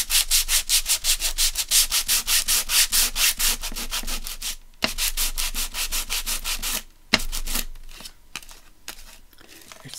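Sanding block rubbed briskly across inked card stock for making coin envelopes, a close, steady run of rhythmic back-and-forth scratchy strokes that pauses twice, then resumes with sparser, scattered rubs.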